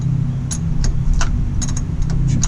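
Car engine idling close by with a low steady rumble and a sharp irregular knock or ticking hitting on top of it, no voices.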